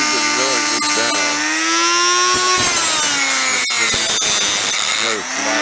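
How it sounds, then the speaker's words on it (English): A restored Sears Craftsman drill press milling a slot, loud close whining motor with a rising and falling pitch as the cutter bites, with occasional knocks and a voice speaking over it. "That's how we've been milling this down."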